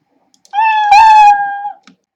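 Cartoon cat sprite in the Scratch programming environment gives a single drawn-out meow, loud and close, rising slightly in the middle and fading at the end, with no talk over it.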